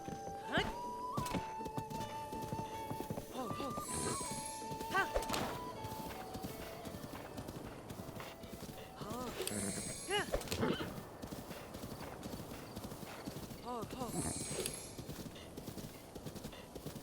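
Horse hooves clip-clopping in Breath of the Wild, a steady rhythmic trot at moderate distance, with neighs and whinnies and some thuds, under light game music and ambience.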